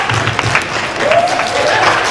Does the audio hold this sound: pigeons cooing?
no